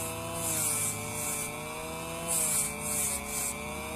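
A Dremel rotary tool distresses the edge of a shirt, a steady high motor whine with rhythmic grinding swells as fabric is pressed against the bit, close and without talk.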